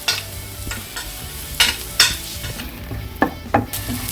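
Green chili, ginger garlic paste and curry leaves sizzling in a hot pan, with a spoon scraping and stirring in irregular strokes over a steady frying hiss.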